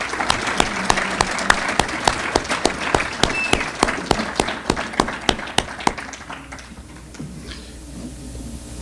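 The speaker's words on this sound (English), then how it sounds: "So a big round of applause for our assistant coaches." Rhythmic unison clapping from an audience at a school all-sports awards night, a steady beat of loud sharp claps that thins and fades out near the end.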